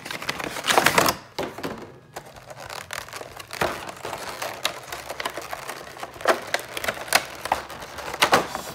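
Foil wrapper of a Pokémon card booster pack being torn and crinkled open with effort, a series of sharp rips and crackles with brief pauses, close to the mic and without speech.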